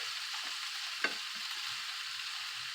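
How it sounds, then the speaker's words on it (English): Bacon fries in a pan with a steady, soft sizzle throughout, broken by a faint stir or scrape now and then. "Now, we'll get that bacon down there now. Let it fry a little more tasty."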